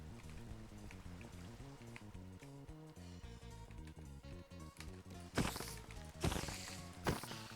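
Rain from a Minecraft thunderstorm patters steadily beneath continuous game music, with a few louder bursts of rainfall swelling near the end.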